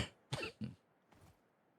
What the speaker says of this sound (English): coughing into the mic.